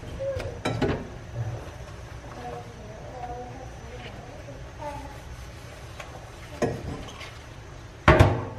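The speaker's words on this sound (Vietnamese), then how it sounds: "Sẽ rửa hết tất cả những cái nồi" Pots being scrubbed and rinsed with clean water, one with food stuck hard to it, giving scattered clinks and clanks of cookware against a sink, with a louder clatter near the end, under a steady background hum.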